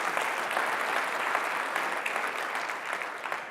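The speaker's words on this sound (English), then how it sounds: "That's worth applause." An audience applauds warmly and steadily, a dense wash of clapping that holds at an even level throughout with no voices over it.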